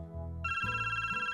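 A smartphone ringtone from the visual novel Cafe Stella, a bright electronic ringing melody that starts abruptly and pulses rapidly, loud and close with no talk over it.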